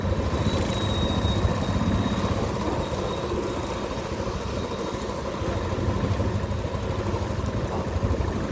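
Motorcycle riding noise as heard inside a helmet with the visor open: a steady, dense rumble of engine and wind buffeting that stays loud and even throughout, with no voices.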